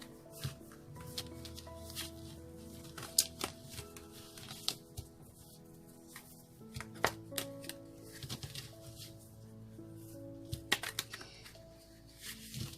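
Angel cards are shuffled by hand in quick, soft riffling bursts with sharp little clicks and taps between them, faint and close.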